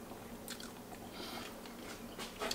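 Close, quiet chewing and biting on a boiled egg yolk, soft mouth sounds with a few small crunchy bites over about two and a half seconds, no talking.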